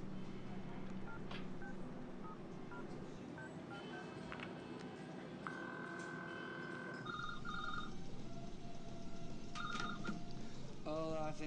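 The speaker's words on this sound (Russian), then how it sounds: "Набери номер." Telephone keypad tones being dialed, then a phone ringing, with steady tonal beeps over a busy room murmur and occasional voices.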